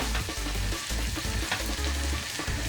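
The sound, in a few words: almonds toasting in a pan, stirred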